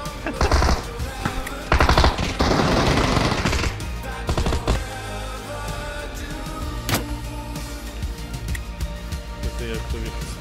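PUBG gameplay with bursts of loud automatic gunfire early on, then scattered fainter shots and game noise while players talk over voice chat.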